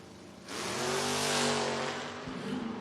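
Two footbrake drag race cars, a 1971 Dodge Demon and a 1987 Ford Mustang, launch at a drag strip. A loud engine roar rises suddenly and holds for about two seconds before easing off.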